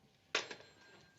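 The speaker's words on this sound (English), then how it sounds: "Oh, my doorbell's ringing." A single doorbell ring in a home, a short bright chime that fades within about a second, heard alone and fairly faint.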